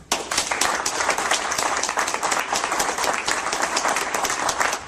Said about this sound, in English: ladies and gentlemen, please, a big round of applause for Rick Ector.